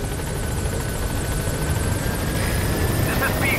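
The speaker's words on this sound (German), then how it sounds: "Auf jeden Fall gehen wir jetzt wieder zurück in den Heli." A helicopter in Metal Gear Solid V: The Phantom Pain drones steadily with a constant rotor whir throughout, while faint game voices appear briefly toward the end.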